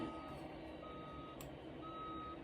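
A semi truck in the BeamNG driving game sounds its reversing alarm, a thin, steady series of high beeps repeating at an even pace, faint and alone over a low engine hum.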